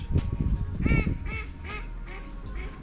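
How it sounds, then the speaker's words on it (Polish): A group of ducks on a river quacks loudly and repeatedly nearby, overlapping calls in quick bursts with outdoor background noise. "Chyba wszystkie kaczki z okolicy tutaj przylatują."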